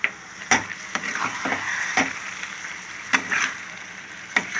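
Chana dal being stirred into a curry in a pan, with a soft sizzle running underneath and a series of sharp scrapes and clicks from the spoon at irregular intervals, close and without talk.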